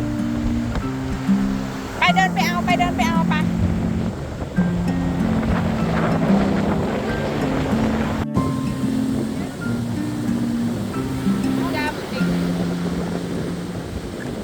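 Strong sea waves roll and crash on Jomtien beach in Thailand under gusty wind, a constant loud surf roar, while people talk nearby over it.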